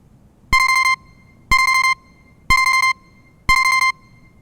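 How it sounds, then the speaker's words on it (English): A telephone rings four times in a cold, late-night setting, each burst a clear, loud electronic trill lasting about half a second, repeating once a second with quiet gaps between. "and even colder when the phone rings"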